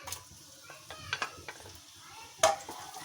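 Chopped onions go into hot oil in a pan with a sudden clattering splash, followed by a soft sizzle and light stirring knocks, all fairly quiet.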